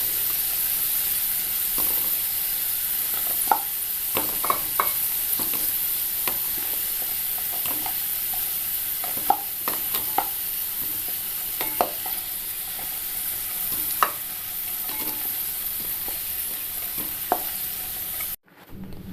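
Potatoes fry in hot oil for a vegetable masala curry, a steady close sizzle with occasional scraping stirs of the spoon, no voices, until the sound cuts off near the end.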